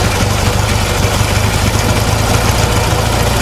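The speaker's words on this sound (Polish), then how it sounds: "Silnik chodzi, na razie nie chcę tutaj wchodzić na wyższe obroty" A Polski Fiat 126p 600 engine idles steadily after a cold start following long storage, with a low, rough, even rumble and constant vibration, loud and close, with no other sounds.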